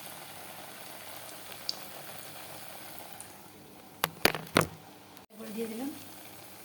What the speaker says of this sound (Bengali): ভাজা হচ্ছে, ভাজা এক পাশে হয়ে গেলে তারপরে উল্টে দিব।